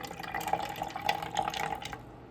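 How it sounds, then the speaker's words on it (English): Coffee is poured slowly into a mixture for a red cabbage pH indicator experiment, making a quiet, continuous liquid trickle with small splashy bubbles for a couple of seconds. "I'm going to slowly pour this in to my mixture."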